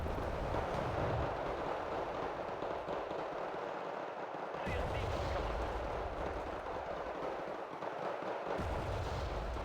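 A video game mortar strike rumbles as a sustained, heavy low roar of distant impacts and explosions, steady throughout with two brief dips in the bass.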